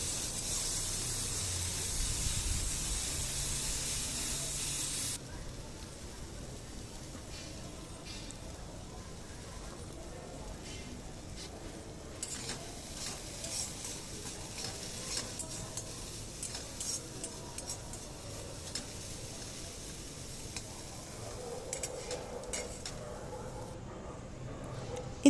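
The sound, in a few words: diced potatoes frying in oil with salt and turmeric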